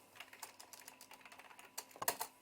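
Quick taps on a computer keyboard, light irregular keystrokes close by and fairly quiet, ending in a couple of sharper key presses, with no talk.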